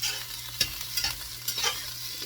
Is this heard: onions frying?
yes